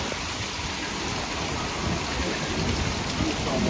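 Heavy rain pours during a strong nighttime thunderstorm with gusty winds, a dense continuous hiss with low thunder rumbling beneath, close and loud throughout.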